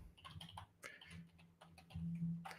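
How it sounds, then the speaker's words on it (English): Soft typing on a computer keyboard patters in quick, irregular clusters of clicks at low level, with a faint steady hum underneath. "Let me just type in quickly something here."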